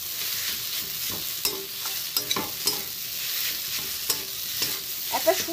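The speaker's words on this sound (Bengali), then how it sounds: "একটু নেড়ে নিই।" A potato mixture for aloo chop sizzles and fries in a pan while a spatula stirs it, scraping with sharp clicks over a constant hiss.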